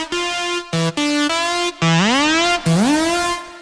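A loud, buzzy EDM synth lead made in FL Studio plays a short phrase of sustained notes with sharp gaps and upward pitch bends, bright and aggressive in tone.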